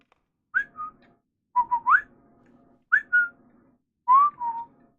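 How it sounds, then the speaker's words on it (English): Finger whistle from Sekiro: Shadows Die Twice, heard as four clear, close bursts of two or three short, bright whistled notes each, separated by short silent gaps. "the sound of the finger whistle enrages beasts, making them unable to distinguish friend from foe"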